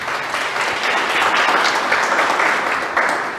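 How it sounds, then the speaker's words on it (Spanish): A congregation applauds during a church service on family and faith, dense sustained clapping filling the space at close range, loud and continuous from start to finish. "Dale un aplauso a Jesús por eso."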